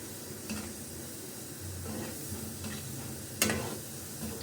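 Pumpkin sweet balls deep-frying in hot oil over a medium flame, a faint, steady bubbling sizzle with an occasional soft clink of a utensil against the pan.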